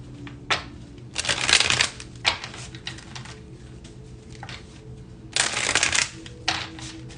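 Tarot cards shuffled by hand during a new moon reading, with two main riffling bursts and a few softer taps and slides between them, close and fairly quiet, with no talking.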